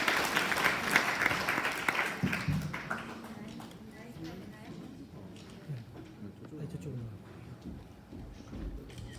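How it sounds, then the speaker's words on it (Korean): Applause for a lecturer at an NGO launch and health forum in a Korean hall: a burst of clapping that fades within a few seconds, then a voice speaks over faint scattered claps. "한 번 더 박수 한번 쳐 주시기 바랍니다"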